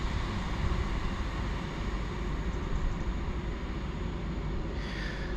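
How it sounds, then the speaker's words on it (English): A train pulls into a platform on the Glasgow South Western Line, a steady broadband rumble of rolling wheels and engine holding even and moderately loud throughout, with a faint brighter squeal near the end. "just whilst the train approaches"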